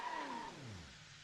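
Truck engine in the BeamNG driving game, revving in four-low, a brief roar whose pitch sweeps downward and fades as the engine winds down.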